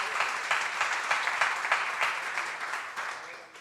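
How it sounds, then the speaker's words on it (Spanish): A church congregation claps loudly during a sermon, producing a dense burst of applause with rhythmic surges that holds steady, then tapers slightly toward the end. "denle un aplauso fuerte a Jesús"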